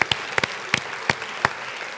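A handful of scattered, sharp hand claps from a group after morning exercises, fading out as the applause ends, with no talking.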